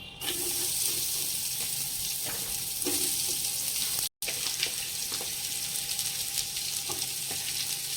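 Onions sautéing in a pan for country-chicken biryani cooked in Healux cookware, a loud continuous hissing sizzle with occasional spoon scrapes, close and without talk, briefly cutting out midway.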